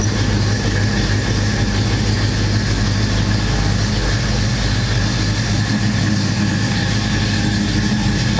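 A 1972 Oldsmobile Cutlass 442 with an air induction hood runs its engine, giving a loud, steady, close rumble that holds unbroken throughout with no talking.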